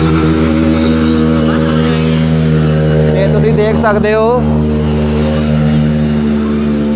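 Motorcycles ridden by young men through deep floodwater on a street in Jalandhar West, engines droning and revving steadily throughout, loud and close under continuous talk.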